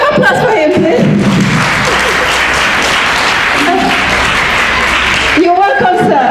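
Applause welcoming a school director at a college quiz event in Brikama: loud, sustained crowd clapping that swells in the middle, with a voice talking over it at the start and end.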